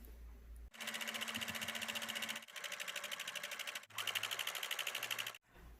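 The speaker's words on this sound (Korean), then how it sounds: "바느질 끝난 다음에 뒤집어서 겉에서 2cm로 박음질 한번 더 하겠습니다." A sewing machine stitches a seam on a fabric bandana cap in three rapid, even bursts of mechanical chatter, close and alone, with short pauses between runs.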